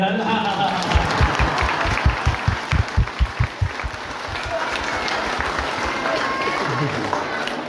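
Crowd at a Nandagaon temple clapping in unison for Kanhaiya, a loud rhythmic run of synchronized claps for several seconds that then dissolves into a dense, scattered clapping wash with voices underneath.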